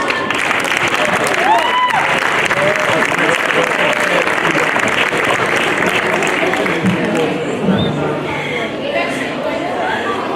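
Applause from an audience at an indigenous storytelling festival before a poem recital, loud and sustained clapping, with crowd chatter and voices mixed in throughout.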